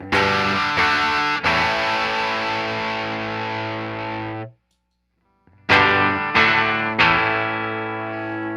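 Electric guitar through an AmazonBasics overdrive pedal with volume maxed: chords ring out loud and sustained, then stop for a beat before three more distorted strums hit in quick succession.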